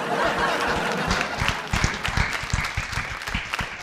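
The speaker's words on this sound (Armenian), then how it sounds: "Ավելի բարձր ծափարեն։" Studio audience on an Armenian TV show breaks into sustained, dense applause, close and steady, with scattered chuckles and laughter mixed into the clapping.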